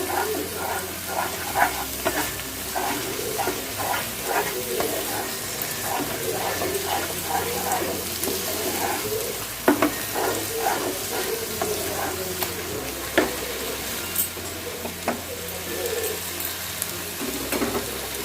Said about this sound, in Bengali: এই কাসুরি মেথিটাকে আমি ভালো করে শাকটার সাথে মিশিয়ে নেব